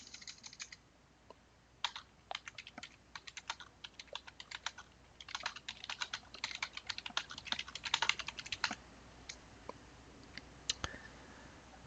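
Quiet keyboard typing at a computer, bursts of quick clicking keystrokes with short pauses between, fairly close and faint with no voices.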